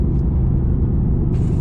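A 2019 Mercedes-AMG GT R engine powers hard out of a corner, a loud, close, steady rumble that keeps its full throaty drone, with a brighter rasp coming in near the end as it pulls through a shift.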